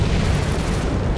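Grenade blast in the shooter game Ghost Recon Phantoms, a loud, dense, continuous low rumble filling the whole moment with no clear start or end.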